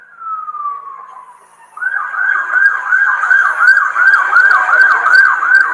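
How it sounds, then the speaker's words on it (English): A loud nearby siren gives one long falling wail, then switches to a rapid, continuous warbling yelp that keeps going. "I already hear the sirens"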